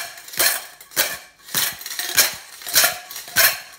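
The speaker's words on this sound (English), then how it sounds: "Noisy tin, ready to listen?" A noisy tin shaken as a percussion instrument, six rattling metallic bursts in a steady rhythm roughly every 0.6 seconds, loud and close, with no voices.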